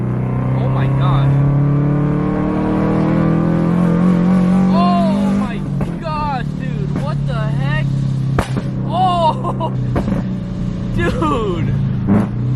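A Scion FRS sports car accelerates hard from inside the cabin. The engine note climbs and drops through repeated sweeps and gear changes, with excited talk from the occupants over it.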